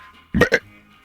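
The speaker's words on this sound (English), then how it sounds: "Sorry, I need a burp." A single close, loud burp from a man, a short double-pulsed belch that stands out against near silence.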